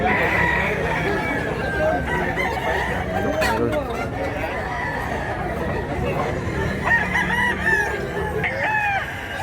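Roosters and hens at a crowded poultry market in Mantalungon, Cebu, crowing and clucking continuously in overlapping calls, near and loud, with market chatter and a brief spoken word underneath.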